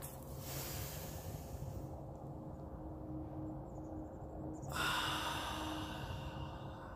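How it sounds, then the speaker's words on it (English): Slow clearing breaths are taken outdoors in nature during a guided breathing exercise. Soft, airy inhales and exhales sound quiet and close, with a stronger rush of breath near the end. "we want to do like 3 clearing breaths"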